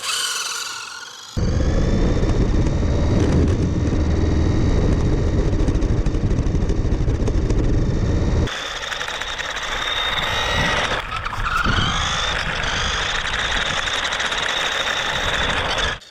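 A cheap Red Bull F1 radio-controlled toy car from Costco drives by with a loud, high electric motor whine that holds steady, briefly cuts out, then returns, with no talking.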